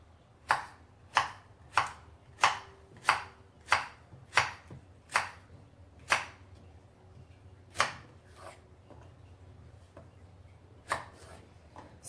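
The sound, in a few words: chopping zucchini with a knife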